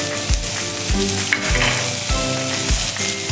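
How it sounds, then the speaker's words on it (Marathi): Chopped onion with a pinch of asafoetida frying in hot oil in a pan over medium heat, a loud steady sizzle with rhythmic scraping stir strokes about every half second, close up and without talk. "आता आपण हा कांदा मीडियम गॅसवर छान असा तांबूस रंगावरती परतून घेऊया"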